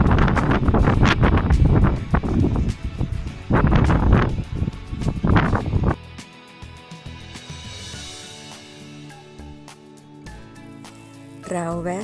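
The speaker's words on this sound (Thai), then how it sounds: "วันนี้ลมแรงมากและ เย็นมากด้วยเช่นกันค่ะ" Strong, cold wind at a roadside viewpoint during a drive from Spain into France buffets the microphone in loud, rough gusts, first under a voice and then alone as a steadier, lower roar.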